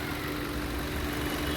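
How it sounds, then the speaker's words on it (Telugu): A 2019 Hyundai Verna 1.6 SX engine idles smoothly after a push-button start, giving a steady, even hum with a faint low tone and no talking. "ఇంజిన్ స్టార్ట్ చేశాను సార్. Push start. చాలా అంటే చాలా స్మూత్గా ఉంది సార్ ఇంజిన్"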